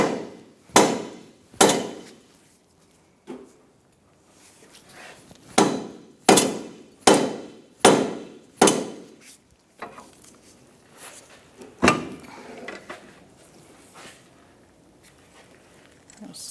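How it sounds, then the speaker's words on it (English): Dull, heavy blows from a rubber mallet striking the front lower control arm of a 2004-2009 Mazda 3, about nine hits in uneven clusters with pauses between, close and solid. "I'm using a rubber mallet, and I'm hitting the arm,"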